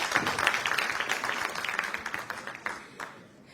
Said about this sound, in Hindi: जरा जोरदार तालियों से स्वागत करें रवि किशन जी का